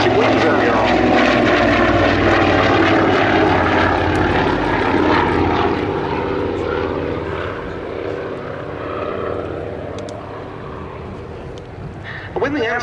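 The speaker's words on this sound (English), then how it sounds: "The Anson was designed to meet an Air Ministry specification for a twin-engine coastal reconnaissance land plane." A twin-engine Avro Anson flies at the Duxford Battle of Britain Airshow 2023, its propeller engines droning steadily and loudly throughout and fading slightly toward the end, beneath continuous commentary.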